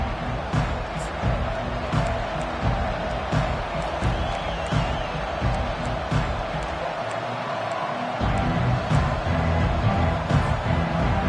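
A stadium crowd roars in a PS5 college football game, a dense, continuous wash of cheering that swells louder near the end beneath game commentary.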